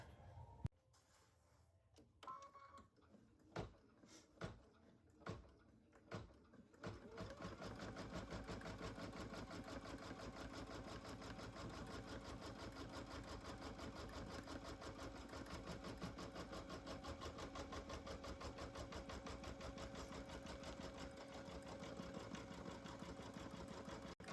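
An embroidery machine stitching an in-the-hoop stuffed bear pattern: a few separate clunks at first, then a fast, steady, rhythmic needle chatter that runs on evenly, close and unbroken, with no talk.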